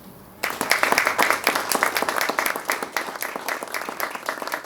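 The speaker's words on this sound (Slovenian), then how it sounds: "Prosim za topel aplavz v sprejem." Warm applause from the audience at a ceremonial municipal council session with an awards presentation, starting abruptly after a quiet moment and continuing as steady, even clapping from many hands.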